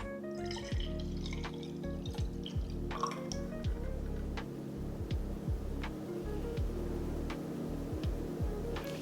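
Golden beet juice dripping from a juicer, a steady series of small close drips and ticks over a low continuous background hum.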